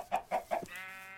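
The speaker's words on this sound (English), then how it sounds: "di natin papatayin itong mga chicken na yan" Chickens in the Minecraft survival game near a village cluck in three short, close bursts, followed by a steadier drawn-out fowl call.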